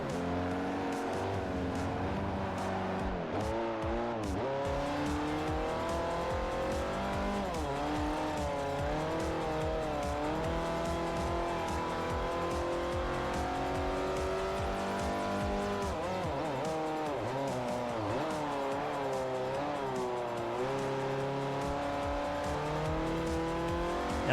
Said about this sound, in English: I'm becoming hyper dependent on the engine sound of the Ford Fiesta.